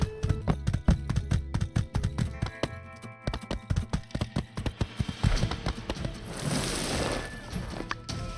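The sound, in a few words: horse hooves trotting in video game My Time at Sandrock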